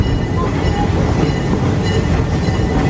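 Aboard the park train at Busch Gardens Tampa, seated in the front row, a loud, steady rumble of rolling wheels and carriage noise fills the space continuously with no talk.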